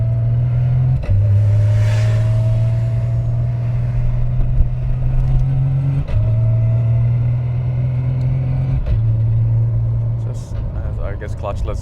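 Car with a sequential gearbox pulling through clutchless upshifts, a loud steady engine drone that rises in pitch and then drops sharply at each of three quick gear changes, with someone talking over the engine noise.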